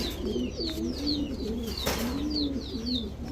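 A Giribaz pigeon coos in repeated low, rolling phrases close by, with lighter chirping from other birds threaded through and a steady background hum.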